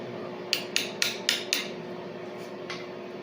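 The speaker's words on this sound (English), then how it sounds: "I'm going to grab a hammer and just tap that down a little bit" Five quick hammer taps ring out on a metal fitting in a cast iron flange in a steady rhythm, then a pause and one more lighter tap, close by and otherwise quiet.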